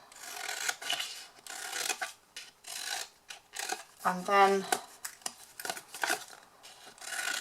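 Scissors snip the corners of a card gift box in short scraping, rasping strokes, close and intermittent, between brief pauses while someone speaks softly.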